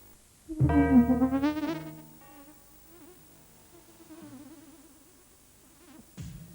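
A housefly buzzes in a 1999 Polish Muchozol fly-spray advert: a loud, wavering drone for about a second and a half, then a fainter, fluttering hum, with a short thump near the end.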